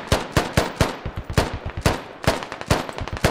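Rapid bursts of automatic gunfire in the video game Squad, loud, close shots in uneven clusters rattling off across a few seconds with no talk over them.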